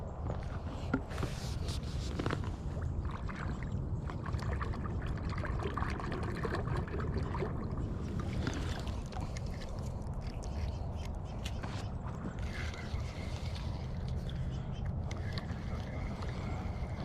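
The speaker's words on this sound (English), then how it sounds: "I'm dunking my reel in the water to quiet it down." A bass fishing reel dunked and swished in fresh lake water outdoors on a rainy winter day, giving a steady close sloshing and gurgling wash with small splashes, continuous throughout.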